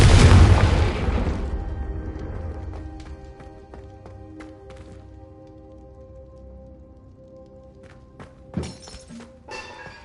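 A Confringo spell blast in Hogwarts Legacy lands as a loud, booming explosion right at the start, then rumbles and fades over several seconds, with faint debris clatter and a couple of small thuds later.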